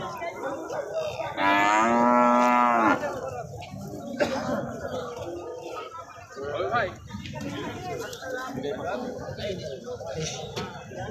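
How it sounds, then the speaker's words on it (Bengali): Cattle at a busy market for Sahiwal and Gir cows low with one loud, drawn-out moo near the start, followed by a crowded background of people talking and milling about. "কি বড় একটা গরুর হাট আর এখানে সব ধরনের গরু পেয়ে যাবেন"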